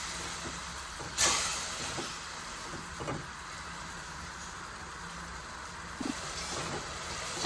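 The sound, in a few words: tomatoes and spices frying in a pan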